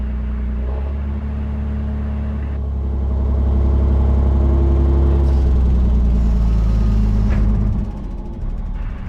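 Articulated dump truck lowering its skip, a loud, steady diesel engine drone with hydraulic whirring that swells in the middle as the body comes down, then eases off near the end; no voices.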